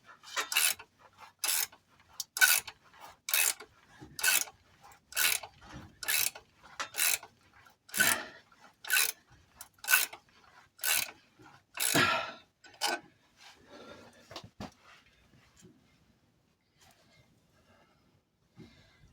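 Rhythmic rasping strokes of a saw cutting through metal while replacing a Peugeot 205 GTI torque-reaction engine mount, about a dozen steady back-and-forth pulls, close and sharp, then they stop.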